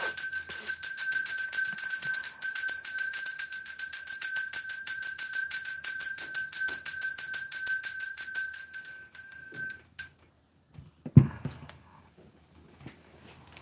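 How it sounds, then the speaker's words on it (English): A small bell rung rapidly and continuously for about nine seconds, bright and steady with a sustained shimmer, then stopping abruptly, followed by a couple of faint knocks and near silence. "I need to take like a bit of a ring of the bell"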